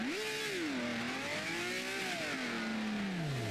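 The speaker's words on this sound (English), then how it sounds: "Hey, the engine still works." A racing car engine in the Grand Prix Legends driving game at Monza revs alone, its loud whine climbing, dipping, then climbing again before falling away steadily.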